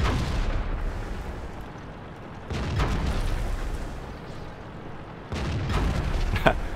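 Explosions and gunfire in a World of Tanks battle on the Himmelsdorf map with an FV215b 183 tank: broadband booming bursts with rumbling tails, the loudest hits near the start, mid-clip and toward the end over steady battle noise.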